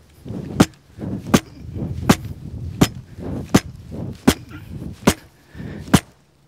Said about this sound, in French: on va taper le fusil autant de fois que nécessaire et puis on va voir si le coup part